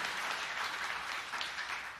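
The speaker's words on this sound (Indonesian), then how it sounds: "kita beri tepuk tangan yang meriah bagi Tuhan Yesus" Applause from a church congregation, a brief, faint, even patter of many hands clapping together with no voices over it.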